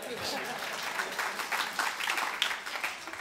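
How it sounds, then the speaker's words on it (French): An audience at a talk breaks into steady applause, a bright, continuous clatter of many hands clapping at moderate volume with no pauses across the span, voices faintly mixed in. "Vous pouvez applaudir"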